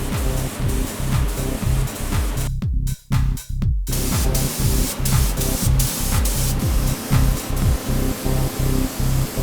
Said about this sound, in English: The high fill primer is mixed up with thinners and sprayed fairly heavily onto each panel.